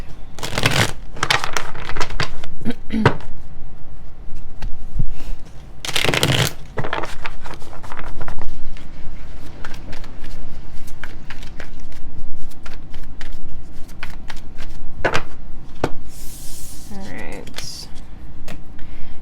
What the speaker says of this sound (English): just going to shuffle these real quick